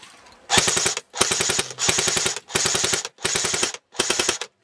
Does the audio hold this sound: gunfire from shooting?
yes